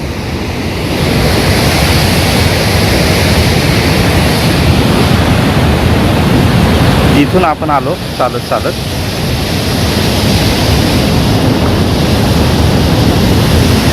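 A flooded river rushes strongly past, a loud, steady roar of flowing water that fills the whole stretch while someone talks briefly midway.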